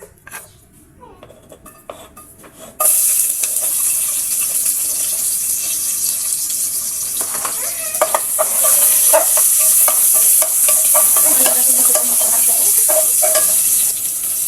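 After a quiet start, hot oil in a cooking pot suddenly bursts into a loud, steady sizzle as chicken for tinola hits it, with occasional clinks of a utensil stirring.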